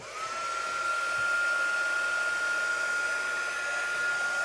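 A hair dryer runs steadily to dry wet chalk paste on a Chalk Couture craft project, a loud continuous whir with a high whine held throughout, heard alone at close range.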